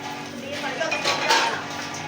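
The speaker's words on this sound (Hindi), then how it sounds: "इधर किचन की सफाई हो रही है, बर्तन वगैरह सेट हो रहे हैं।" Dishes, pots and utensils clink and clatter while a kitchen is cleaned and things are put away, a short run of light metallic knocks at moderate loudness, with a faint voice in the background.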